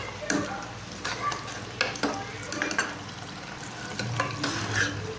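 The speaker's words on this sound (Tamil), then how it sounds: "இப்போ நல்லா கலந்து விட்டுக்கலாம்." A spoon stirs raw papaya kootu in a pot just after the tempering is poured in, giving soft scraping and clinks against the metal over a quiet simmering hiss, faint and close, with no speech.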